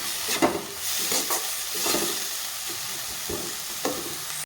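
Onions frying in a pan with ground cumin and coriander, a steady close sizzle punctuated by rhythmic stirring scrapes and spatula knocks roughly every half second to second, no speech.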